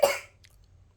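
A single sharp sneeze from a young child, loud and close at the start, then fading into quiet room tone with no talking.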